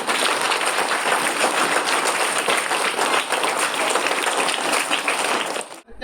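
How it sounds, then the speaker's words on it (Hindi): An audience at a child abuse awareness event claps for a guest in a sustained, thick round of applause that keeps an even level for several seconds, then stops abruptly. "सौरभ अग्रवाल जी के लिए भी एक बार तालियां बजाएंगे।"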